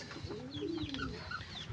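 Soft calls, chirps and coos from several young chicken chicks eating close by, short overlapping peeps with light scratchy background noise.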